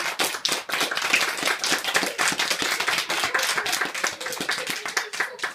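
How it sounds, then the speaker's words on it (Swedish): An audience claps for a magician's helper after a trick at a magic show, lively close clapping with distinct individual hand claps in an uneven rhythm. "En applåd!"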